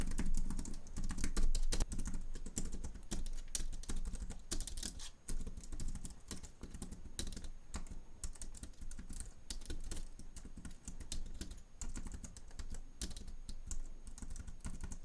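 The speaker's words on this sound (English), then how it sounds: "I'm just going to type all of this in real quick." Continuous quick typing on a computer keyboard in a quiet room, dense close-up key clatter running steadily for the whole stretch with no talking.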